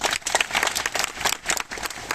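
A seated audience at a toothpaste product talk claps when asked to: steady, dense clapping from many hands throughout, with crowd noise mixed in.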